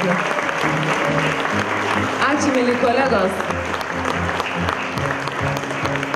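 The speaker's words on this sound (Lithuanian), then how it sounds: "Nepagailėdami aplodismentų." Festive audience at a celebration breaks into sustained, dense clapping that carries on steadily while a speaker talks over it.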